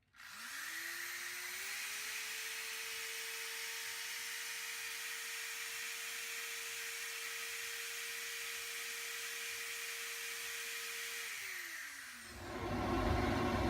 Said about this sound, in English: So if I turn on the drill again